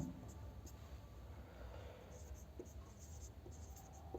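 Chalk or marker writing on a board during a trigonometry class, faint soft taps and scratches under a quiet room tone, with a voice speaking faintly.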